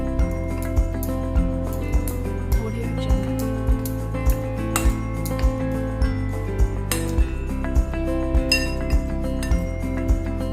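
Spoon stirring chopped dry fruits, fennel and cardamom powder in a bowl for sweet malpua batter, with steady repeated clinks against the bowl, close and clear.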